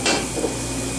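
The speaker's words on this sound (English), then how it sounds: "So what you want to do is saute your onions until they're translucent." Chopped onions sauté in a hot pan with a steady, dense sizzle while a rubber spatula scrapes and stirs through them, the frying loud and close throughout.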